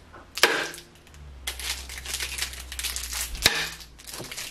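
A wrapped banana-flavoured fudge candy gets whacked twice against something hard, each blow a sharp crack, with crinkling wrapper rustle between and after.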